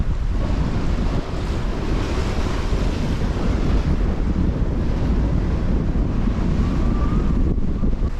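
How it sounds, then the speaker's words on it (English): Steep waves slap and rush against a sailboat beating to weather in a near gale, a loud continuous churn of surf and spray under roaring wind buffeting the microphone, with no talking. "The waves are quite steep as well,"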